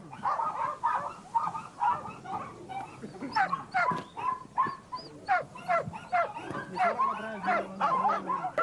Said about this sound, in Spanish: los perros esperan nerviosos el momento de la suelta